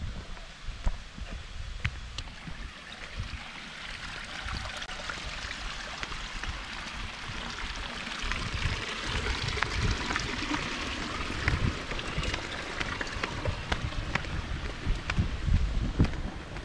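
Continuous broadband rushing of a waterfall at Taman Beji Griya, Bali, steady and fairly loud, growing slightly stronger toward the end.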